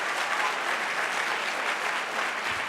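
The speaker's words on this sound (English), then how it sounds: "Can we just get one more round of applause for that awesome speech?" Steady, dense audience applause after a speech at a closing ceremony, a continuous wash of many hands clapping at even loudness throughout, with no voices over it.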